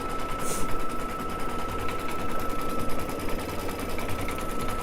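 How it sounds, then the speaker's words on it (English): A Baby Lock sewing machine stitching out a quilt block design, a steady fast mechanical whir and needle chatter running continuously at close range without pause. "So it's going to stitch that out right where I want it, exactly where I want it"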